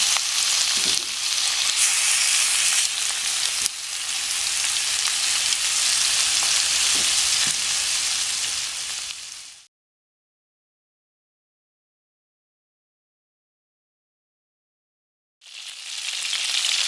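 Chicken pieces frying in a pan until golden brown, a loud steady broadband sizzle with a brief dip near four seconds, cutting to silence around ten seconds before the sizzle returns near the end.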